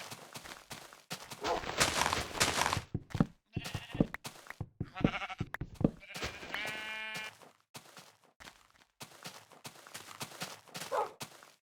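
Sheep in a video game bleat repeatedly in short, close, clear calls with brief gaps between them, alongside a few light game sound effects.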